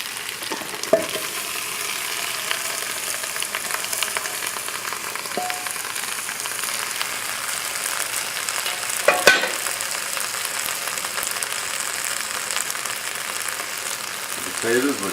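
Beef for a cholent-style beef and bean stew fries in a pot, giving a steady close sizzle and crackle throughout with occasional stirring scrapes and a brief voice in the background.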